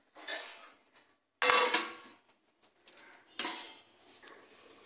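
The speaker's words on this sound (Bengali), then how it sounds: "এবারে আমি ঢাকা দিয়ে 5 মিনিট রেখে দেব।" A lid set onto a cooking pot of Bengali shukto, heard as three separate bursts of metallic clatter and rattle, close by with quiet gaps between.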